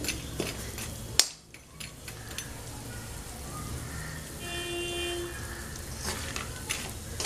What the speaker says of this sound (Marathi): सांडगे चांगले खरपूस तळून घ्यायचे आहेत आपल्याला तेलामध्ये